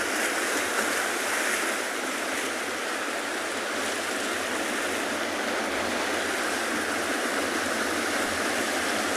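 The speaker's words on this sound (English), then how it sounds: "I can hear these really low bass-like sounds as well as the high-pitched sound of them hitting the rocks." Heavy ocean surf crashes against coastal rocks in South Africa, a loud, continuous broadband roar with a low rumble beneath and no break throughout.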